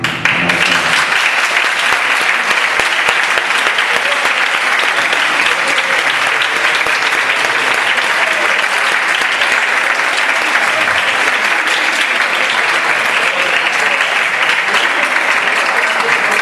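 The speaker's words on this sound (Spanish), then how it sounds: "espero que un pequeño aplauso que deis, en cierta manera será para todos los que estamos aquí hoy en el aula magna" A crowd in a university auditorium gives sustained applause, a dense and even wash of many hands clapping that stays loud for the full length without a break.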